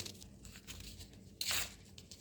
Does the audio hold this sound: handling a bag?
yes